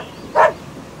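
A single short dog bark or yip at mid distance, one brief burst standing out against a quiet background.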